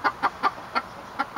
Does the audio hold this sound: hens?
yes